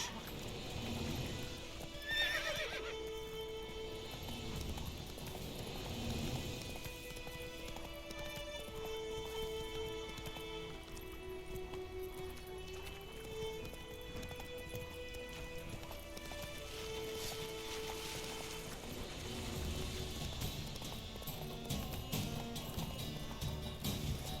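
Roach, the horse in The Witcher 3, gallops with steady rapid hoofbeats throughout, a short whinny near the start, and game music running underneath.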